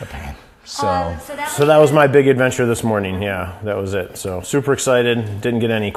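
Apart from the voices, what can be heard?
None of the usual background noises is heard.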